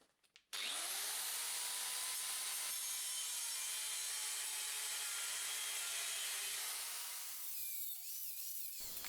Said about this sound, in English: cutting it out with the angle grinder